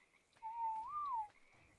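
A single whistle command in ARK: Survival Evolved, a clean, near tone lasting under a second that holds steady and then bends upward before dropping, set against quiet background.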